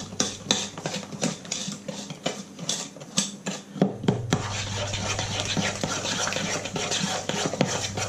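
A spoon scrapes and taps rhythmically against a bowl while carrot cake ingredients with clumping brown sugar are mixed by hand, close and fairly quiet, shifting to a steadier gritty stirring halfway through.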